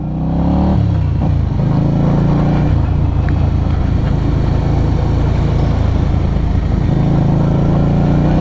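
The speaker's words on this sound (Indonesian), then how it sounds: "kalau di jalan raya seperti ini suara mesinnya enggak terlalu kedengeran ya" Keeway V250Fi motorcycle, 2022 model, cruising on a highway with a continuous loud engine drone and road and wind rumble throughout, with no one speaking.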